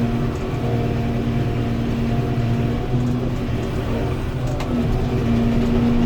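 A Lane Shark grinder revved up to cut into a pine tree roughly five to six inches thick: a steady, close engine drone holds throughout, with a low rumble and slight pitch shifts but no distinct cutting bursts.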